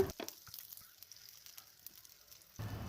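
Small shallots frying in hot oil with curry leaves, a soft steady sizzle with faint crackles that swells louder near the end, with no talking.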